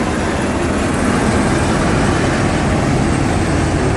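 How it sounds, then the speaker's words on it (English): A loud, close helicopter roar fills everything, a dense, unbroken rumble and whoosh that holds steady throughout. "Noisy helicopter."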